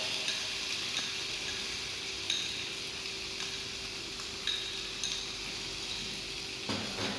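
Tomato sauce stirred and cooking in a pan, a soft steady sizzle with a spoon scraping and clinking against the pan every second or so, close up and with no talking.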